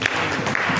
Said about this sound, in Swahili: Mtu mmoja kama amenielewa, mpigie Bwana Yesu makofi